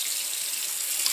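Water runs from a tap into a container to be measured, a steady bright hissing stream, close and continuous, with no voices.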